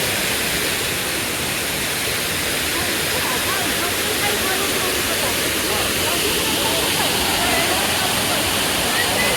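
Steady, roaring rush of the Sanghagara waterfall, loud and continuous throughout with no breaks, a thick wash of broadband noise close by.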